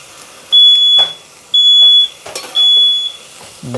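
Smoke alarm set off while cooking halibut and bok choy on a griddle, three loud piercing half-second beeps in a steady rhythm with faint kitchen clatter between them.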